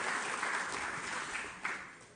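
Applause from an audience at an HDC event thanking a speaker: a steady wash of many hands clapping, moderately quiet and sustained, with one brief louder clap near the end.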